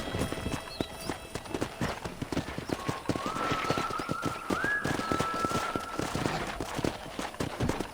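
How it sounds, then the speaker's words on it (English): A band of wild horses gallops across open country in the Red Dead Redemption video game, with steady, dense clip-clop hoofbeats running throughout and a faint drawn-out whinny rising over them midway. "there's a pack of wild horses nearby"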